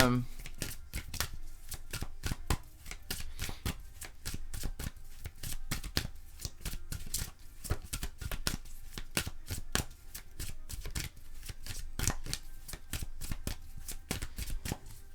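Tarot cards being shuffled and cut by hand, a rapid, continuous riffling patter of cards slapping together throughout, close and even, with a person talking over it.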